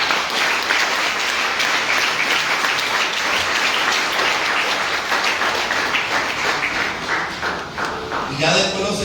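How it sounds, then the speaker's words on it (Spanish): A congregation at a church sermon bursts into sustained, dense applause that stays loud and even throughout, easing slightly near the end as a voice comes back in. "Dale un fuerte aplauso."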